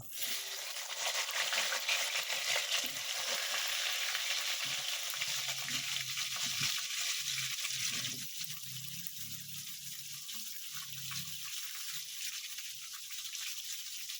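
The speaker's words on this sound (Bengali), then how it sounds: "এবার আমি জিরের ফোড়নটা দেবো। এরপর আমি আলু দিয়ে দেবো।" Cumin seeds and potatoes fry in hot oil with a steady broadband hiss that is strong at first, then settles into a softer sizzle with occasional stirring.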